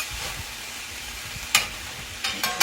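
Greens cooking down in a pot with a steady low sizzle, broken by a few sharp utensil clanks and stirring scrapes toward the end, close and without voices.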